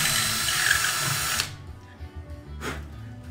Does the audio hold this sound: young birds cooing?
no